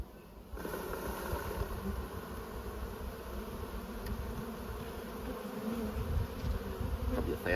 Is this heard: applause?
no